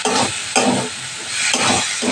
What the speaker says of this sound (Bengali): এইবার আবার ভালো করে কষিয়ে নেব।